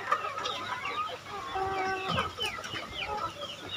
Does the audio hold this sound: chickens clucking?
yes